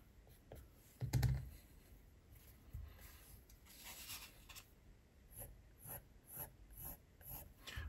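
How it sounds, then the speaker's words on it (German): An eraser rubs out pencil lines on paper during a pencil drawing of a rose, making faint, close, scratchy scrubbing strokes in short rhythmic bursts with quiet pauses between them. "Radiere immer wieder mal so ein bisschen die Linien, korrigiere die so ein bisschen."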